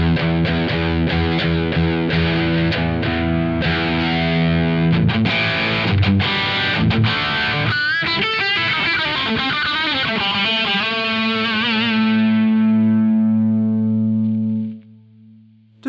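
An electric guitar runs through a BOSS OD-200 overdrive and distortion pedal, playing loud sustained distorted chords and riffs with a shimmering chorus-like texture that rings out and cuts off near the end.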